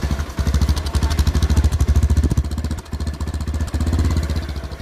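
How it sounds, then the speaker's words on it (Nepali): A repaired motorcycle engine runs steadily after starting, a close, loud putt-putt idle with even rapid firing pulses and a slight dip and recovery partway through, with no talking. "स्टार्ट गरेर सुनाउनु अहिले म तपाईँहरूलाई साउन्ड सुनाउँछु"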